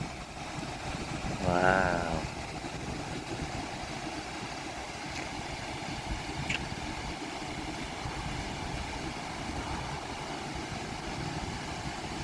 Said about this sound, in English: And a waterfall.